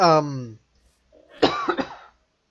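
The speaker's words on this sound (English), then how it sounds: "excuse my coughing" A single voiced cough, followed after a pause by a rougher burst of coughing and throat clearing, close and fairly loud.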